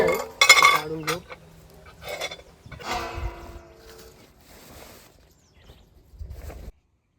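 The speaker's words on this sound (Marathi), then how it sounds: "सगळी चहाची भांडी वगैरे आहे काढून घेऊ" Tea pots and metal utensils being taken out and handled at an outdoor hillside campsite, with close, irregular clinks, clanks and scrapes in short bursts separated by quiet gaps.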